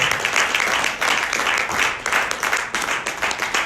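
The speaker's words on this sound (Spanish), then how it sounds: "Póngase de pies y denle un aplauso a Jesús." Church congregation on its feet applauding, a dense, steady wash of many hands clapping that fills the space throughout, with no distinct voices rising above it.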